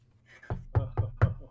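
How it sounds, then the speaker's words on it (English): Knuckles knocking on a wooden surface: four close, dry raps, the last three in an even rhythm, heard alone. "Do you ever have to knock on wood?"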